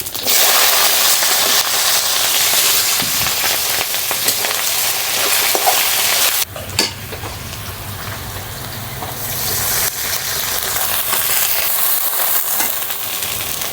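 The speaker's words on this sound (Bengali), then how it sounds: "এখন খিচুড়ি রান্না করার জন্য দিয়ে দেবো তেল, দিয়ে দেবো গোটা গরম মশলা, পেঁয়াজ, রসুন, কাঁচামরিচ।" Whole garam masala, onion, garlic and green chilies hit hot oil for khichuri, producing a loud, continuous hiss and crackle that briefly dips as the pan is stirred, then roars on steadily.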